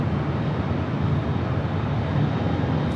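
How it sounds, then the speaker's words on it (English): A Frontier airliner at Los Angeles airport rolls for takeoff on runway 24 left, its engines a steady broad roar heard from a distance, continuous and unbroken throughout. "Got a Frontier flight rolling down to 24 left."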